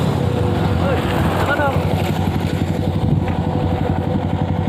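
A motorcycle engine putters along a roadside near Talang Siku, Keluang, its rapid throbbing beat rising and fading as it passes close by, mixed with traffic noise and people talking.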